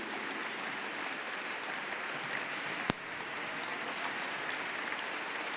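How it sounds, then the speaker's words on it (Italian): A firefighters' band audience applauds a conductor at an anniversary concert, a steady, fairly quiet wash of clapping throughout with one sharp click near the middle. "Un altro grande applauso per lui."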